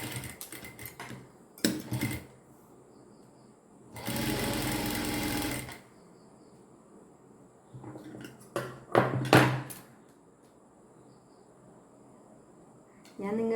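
An electric sewing machine stitching a blouse, running in short bursts of rapid mechanical whirring, one steady run of about two seconds and several quick stuttering stitches, close and clear with quiet pauses between.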